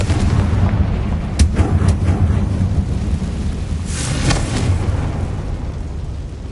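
Fiery spell explosions in the Hogwarts Legacy video game, deep rumbling booms with sharp cracks over a constant loud roar of game background sound.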